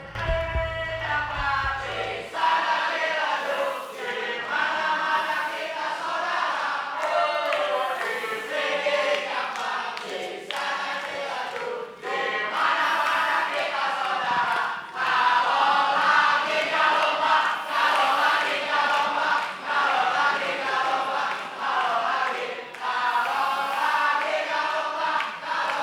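An audience at a Stand Up Indo comedy competition grand final, cheering for Stand Up Indo Jakarta Barat: a loud, sustained crowd roar of shouts and voiced cheering that carries on for the whole stretch.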